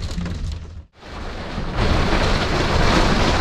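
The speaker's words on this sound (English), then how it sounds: "And now it's hailing." Hail storm pounding a lake campsite: loud, dense broadband clatter and roar with a brief lull near the start, then a heavier, steady drumming that continues to the end.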